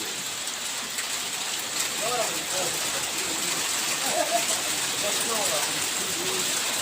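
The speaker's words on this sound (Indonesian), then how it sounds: "Pada saat ini hujan melanda area tanjakan ekstrem Kedabuhan." Rain falls steadily on a steep, extreme uphill road, a constant wash of drops heard throughout with faint voices in the background.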